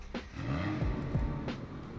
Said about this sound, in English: Here's a startup